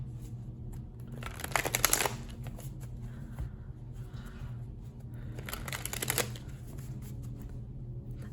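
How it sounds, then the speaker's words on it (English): Tarot cards being shuffled by hand in two quick riffling bursts of crisp flapping clicks separated by quieter handling, close and fairly soft over a low steady hum. "these aren't shuffling."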